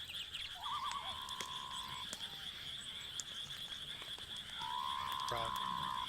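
A frog croaks in two drawn-out, warbling calls separated by a quiet gap, heard against a faint, steady high-pitched background tone.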